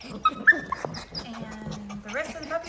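Merle doodle puppies whimper and yip in short, high, thin cries, several overlapping close by, while a person talks softly over them.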